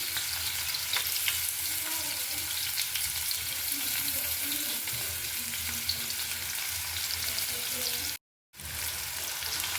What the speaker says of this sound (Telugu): ఇప్పుడు దాంట్లోకి తరుక్కున్న ఉల్లిపాయలు వేసుకుందాం.